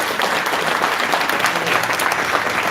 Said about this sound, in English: can we get a round of applause for Jamie, please?